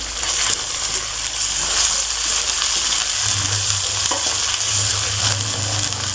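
Peas sizzle and fry in a pan with spices while being stirred, a steady close bright hiss throughout with a low hum entering partway through.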